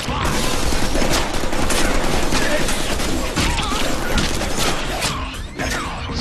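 Dense, relentless submachine gun fire in the Deadpool video game, loud and close with crashing impacts layered through the burst and no break in the shooting.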